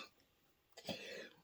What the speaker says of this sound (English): That cough, though.